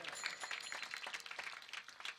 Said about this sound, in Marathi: आणि आपल्या सप्ताह संयोजक कमिटीसाठी एकदा जोरदार टाळ्या वाजवा